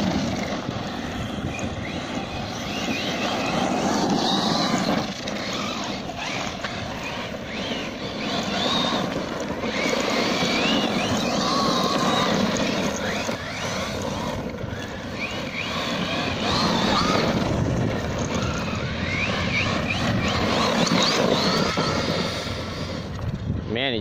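A ZD Racing Pirate 2 RC car with a Turnigy XK-4074 2000KV motor and 15T mod1 pinion whines and buzzes continuously, rising and falling with throttle as it races, with wind and ground noise and people talking over it.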